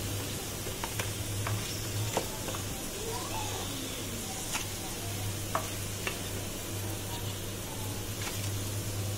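Onion pakoras frying in hot oil on a low flame, giving a steady soft sizzle with scattered faint pops and ticks throughout, no talk over it.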